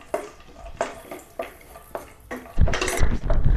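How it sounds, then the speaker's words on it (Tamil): Cashews roasting in ghee in a pan come through as a series of sharp metal clinks and scrapes of a spoon against the pan, ending in a louder, busier stretch of clattering stirs with faint frying underneath. "கால் கப் அளவுக்கு முந்திரி பருப்பு எடுத்துருக்கேன் அதையும் சேர்த்துக்கலாம் இதை வந்து நெய்யில் வந்து நல்லா வறுத்து எடுத்துடலாம்"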